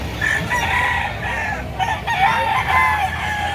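Roosters and chickens at a Lipa, Batangas gamefowl market: continuous loud crowing and clucking from several birds close by, overlapping throughout with steady crowd background.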